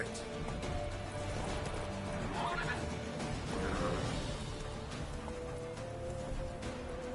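A horse in the video game The Witcher 3 gives a couple of whinnies amid dense, continuous game noise of hooves and movement, moderately loud throughout.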